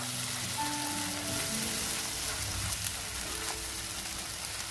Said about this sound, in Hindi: अब हम इसे लगातार चलाते हुए भुनेंगे